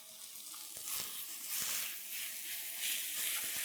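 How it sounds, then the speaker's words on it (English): Ground beef, about a pound, browning in a frying pan, giving a steady broadband sizzle with occasional crackles and stirring scrapes, close and fairly quiet throughout. "So we're going to start off by browning about a pound of ground beef."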